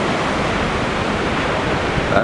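Ocean surf rolling in at the beach in Anglet on a windy morning, a loud continuous wash of breaking waves with wind noise buffeting the microphone.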